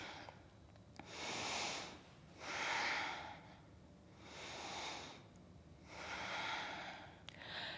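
Slow, deliberate breathing during a seated yoga twist in a vinyasa flow: four soft, airy breaths swell and fade in an even rhythm, quiet and close, with nothing else around them.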